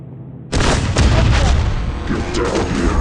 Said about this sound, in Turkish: şuna bomba fırlatacağım